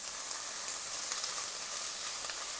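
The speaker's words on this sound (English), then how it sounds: "I'm going to add in a tiny pinch of salt to help these onions cook" Onions frying in a pan with a pinch of salt being stirred in, giving a steady, dense sizzle that stays even and fairly close throughout, with no voices.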